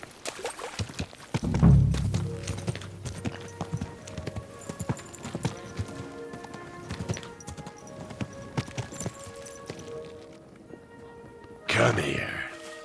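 A horse's hooves clip-clop at a walk in the Kingdom Come Deliverance 2 video game, steady thudding steps over ambient game sound, with a louder thump near the start and a burst near the end.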